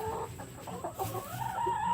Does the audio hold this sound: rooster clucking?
yes